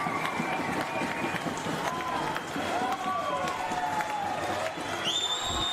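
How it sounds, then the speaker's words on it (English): A football crowd cheers after a spectacular goal in an NTFL men's premier league match between St Mary's and Nightcliff, a loud, dense roar of voices with scattered whistles, continuous throughout. "The crowd loves it."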